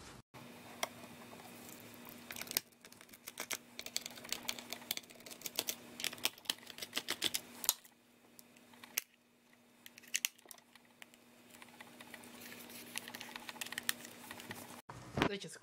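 Screws are backed out of a Motorola baby monitor parent unit with a screwdriver, giving close, faint clicks and small scraping ticks in irregular bursts, with a steady low hum underneath and brief pauses between turns.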